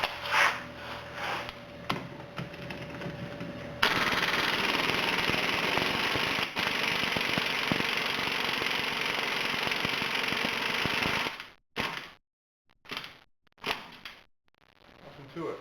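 A rusty axle nut is worked loose on a Toyota Highlander during a wheel bearing job. Loud, steady mechanical whirring runs for about seven seconds, then breaks into a few short, sharp bursts with quiet gaps between.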